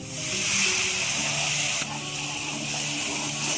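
Water poured onto a hot spice tempering with salt, turmeric and chili in a pan, giving a loud burst of hissing steam that settles into a steady sizzle, heard close with no voices.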